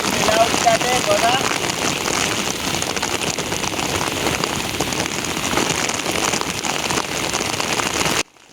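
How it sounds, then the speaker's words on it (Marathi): Heavy monsoon rain pouring down over hilly farmland, a loud continuous hiss and patter of drops hitting surfaces that cuts off abruptly at the end. "इकडं तर मुसळधार पाऊस खूपच चालू झालेला आहे"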